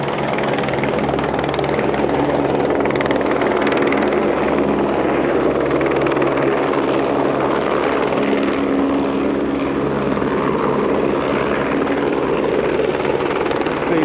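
A helicopter roars steadily overhead, its deep rotor thump and engine drone loud and continuous throughout, with no voices.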